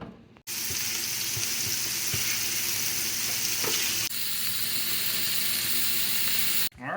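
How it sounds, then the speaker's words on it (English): Wild hog sausage patties frying in a pan on a home stove, a steady loud sizzle that hisses continuously for several seconds with faint clinks, no voices. "We're going to go ahead and cook a couple patties and test it on the stove"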